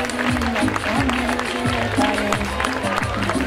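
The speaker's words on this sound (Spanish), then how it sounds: "Un aplauso fuerte, por favor." A crowd applauds at the opening proclamation of a village summer fair in Mezquitilla, with brisk clapping mixed with pitched music or voices throughout.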